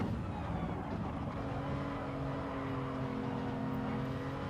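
A turbo sportscar engine in the video game Gran Turismo 7 drones steadily at fairly low volume as it downshifts into third gear, its tone holding even with faint shifting harmonics and no sharp peaks.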